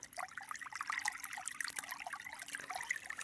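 Water runs through a farm irrigation channel, a faint, continuous trickling and babbling heard alone at low level.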